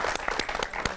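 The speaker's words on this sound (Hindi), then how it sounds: "जोरदार तालियों के साथ इनका स्वागत करेंगे।" Applause from a studio audience welcoming a guest onto a Hindi television show, a short burst of many hands clapping.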